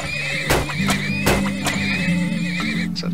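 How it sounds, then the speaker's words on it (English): Horses in the video game Turmoil neigh and whinny loudly several times in close succession, with faint hoof clopping underneath and no talk. "Horses."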